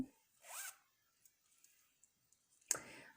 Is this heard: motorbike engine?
no